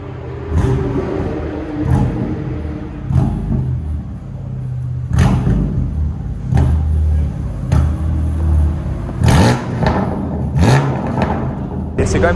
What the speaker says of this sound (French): Écoutez cette M2 compétition, écoutez comment elle sonne.